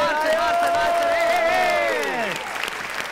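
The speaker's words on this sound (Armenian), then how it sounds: "Մի հատ բարձր ծափ հանենք մեր ակումբի մասնակիցներին" An audience claps and cheers for club members at a show, a steady wash of applause with whoops and shouts, fading slightly toward the end.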